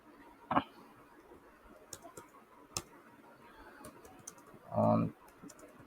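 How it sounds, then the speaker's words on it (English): Light typing on a computer keyboard, a few faint scattered key clicks in a quiet room, with brief bits of speech at the start and near the end. "If you want, I can type here as well."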